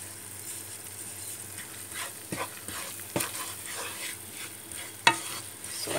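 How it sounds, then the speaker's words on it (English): Flour roasting in ghee over medium heat for Punjabi atta halwa, stirred steadily, giving a soft continuous sizzle with scraping stir strokes and a few sharper spoon knocks against the pan, with no voices. "just keep mixing it and roasting the flour"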